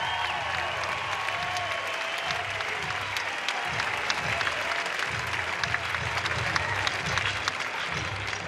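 Steady, loud applause and cheering from a record crowd at Goff Stadium at Coleman Field, an ovation at an Oregon State vs Florida State college baseball game, sustained throughout with no break.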